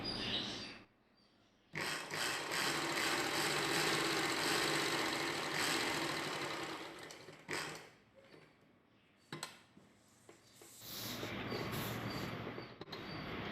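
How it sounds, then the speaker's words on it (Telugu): Sewing machine stitching a long straight seam for piping on a collar-neck dress, a steady whirring run broken by short pauses and brief restarts, close and fairly loud. "ఈ పొడవు కుట్టుకున్నంత వరకు పైపింగ్ వేసుకోవడం కోసం ఇలా పొడవుగా కుట్టు"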